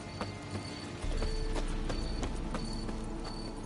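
Geralt's horse Roach gallops in Witcher 3, hooves striking in a quick, regular clip-clop rhythm that picks up into steady running after the first second, close and clear.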